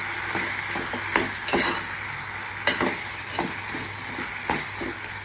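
Boiled mutton is stirred into a frying masala in a pan, with a soft steady sizzle broken by a few spoon scrapes and clanks against the pan. No one speaks.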